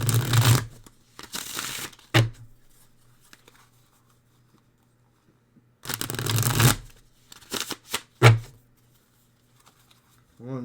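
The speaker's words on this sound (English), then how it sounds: "Shuffle this really quick," A tarot deck is shuffled in several quick riffling bursts of a second or so each, close and crisp, separated by silent gaps.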